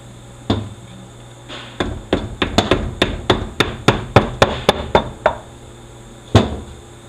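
Sharp hammer strikes on the metal retaining tabs of an M6HA being disassembled, about fifteen close, loud knocks in an uneven rhythm with a burst of quick hits in the middle and one final blow after a pause.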